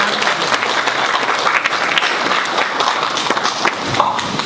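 A hall audience applauds to welcome a speaker to the stage at a walking and welfare forum, a dense, loud wash of clapping that holds steady throughout.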